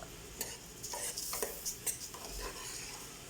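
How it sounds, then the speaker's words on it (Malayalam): A spoon scrapes and stirs through drained rice mixed into Kozhikode biryani masala in a pot, with soft irregular scraping strokes over a faint sizzle. "എല്ലാം കൂടെ നല്ല രീതിയിൽ മിക്സ് ചെയ്യുക"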